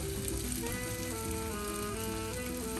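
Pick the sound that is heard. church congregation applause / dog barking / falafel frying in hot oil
falafel frying in hot oil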